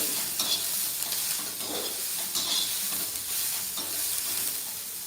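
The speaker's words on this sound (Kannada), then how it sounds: "ಇವಾಗ ಈರುಳ್ಳಿ ಕೂಡ ಚೆನ್ನಾಗಿ ಫ್ರೈ ಆಗಬೇಕು" Finely chopped onions fry in a pan with a steady close sizzle, broken by repeated scraping stirs of a spoon every second or so.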